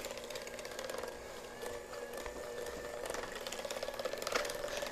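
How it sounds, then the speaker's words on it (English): An electric hand mixer whirs steadily as it beats mashed sweet potatoes with sugar for a casserole, a continuous motor drone with faint rattling of beaters against the bowl throughout. "It's just easier to use a mixer."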